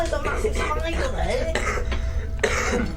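Someone coughs several times in short bursts over steady background noise, with a voice murmuring in between.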